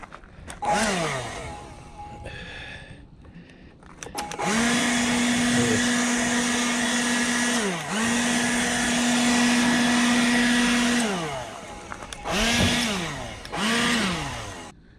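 A powered blower whines as it is switched on and off in bursts to clear dust, twigs and dirt out of a car, a loud, high, steady tone that ramps up and down several times with short pauses between.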